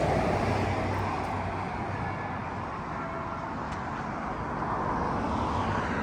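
Continuous street traffic rumbles and hisses through a town on Memorial Day in Winnsboro, Texas, a steady broadband wash of passing vehicles heard while walking, with no clear talk.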